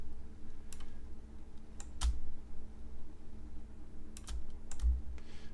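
Typing on a computer keyboard, a few sparse, close keystrokes and clicks spread across several seconds in a quiet room, with no talking.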